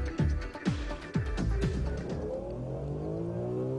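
A BMW M3 accelerates hard on a test track, the engine climbing through quick successive gear changes with sharp pitch drops, then holding a steady high drone, loud and close.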